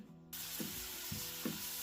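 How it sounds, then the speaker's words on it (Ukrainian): Steady sizzling of carrots frying in a pan, a constant bright hiss with a couple of soft stirring scrapes. "Кілька хвилин смажимо моркву і додаємо цибулю."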